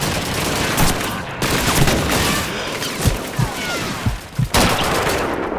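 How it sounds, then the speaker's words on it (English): Call of Duty 2 battle gunfire, with dense bursts of rifle and machine-gun fire rattling almost nonstop. A few heavier thuds punch through near the end. "Open fire!"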